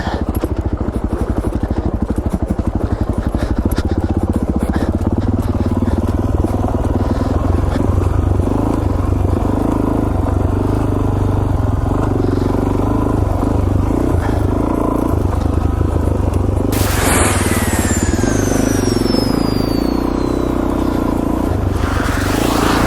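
A Suzuki DRZ400S dual sport motorcycle, not the dirt version, climbs single track in Idaho: the engine chugs loud and close with a steady throb, brush rattling and scraping past, and it rises in pitch near the end.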